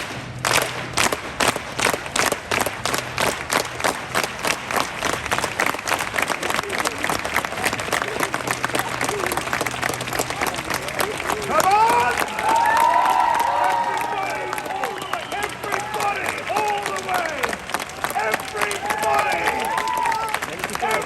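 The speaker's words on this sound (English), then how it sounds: "if you clap with your hands in the air, it sounds louder to everybody else." A street performance crowd in Covent Garden, London claps fast and steady with hands raised overhead, a dense rhythmic beat that runs throughout and swells with cheering midway, while a performer's voice calls out over it.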